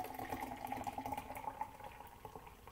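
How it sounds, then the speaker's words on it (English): Nitro beer dumped hard into a pint glass makes a steady, faint rushing pour with fizzing bubbles that runs continuously throughout, with no voices. "when you pour it, it is a hard pour. You just dump it in."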